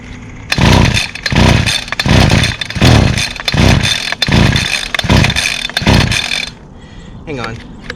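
A small two-stroke engine from a trimmer, chainsaw or blower with no primer, loud and near, surging in roughly six rhythmic bursts as it struggles to keep running, then cutting out. A voice speaks over it.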